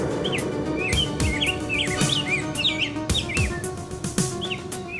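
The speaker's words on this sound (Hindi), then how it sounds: "ये दोनों चिड़िया क्या कर रही है?" Two small birds chirp back and forth in quick, bright rising and falling tweets, fairly loud and close, repeating steadily over a busy background with rustles and soft knocks, with no one speaking.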